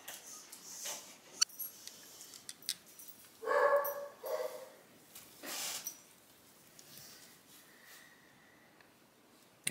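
A dog barks in the background of a room where gun oil is being drawn into a needle, with a few scattered, fairly faint barks and small clicks and handling noises around them.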